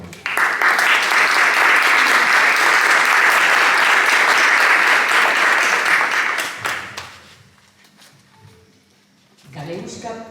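A packed hall bursts into loud, sustained clapping at a Galician education event on linguistic diversity, holding full for about six seconds before fading into quiet room tone, then a voice begins speaking near the end.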